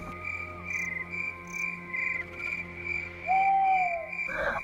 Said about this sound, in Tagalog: At tanging huni ng mga kuliglig at ibon ang maririnig mo.